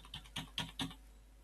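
Four sharp, separate clicks of keys pressed on a computer keyboard while editing code, close and crisp, with short pauses between presses and quiet in between.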